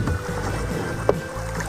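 Canoe gliding on a wilderness lake, a steady low wash of water and hull noise with one brief knock near the end, close by and alone.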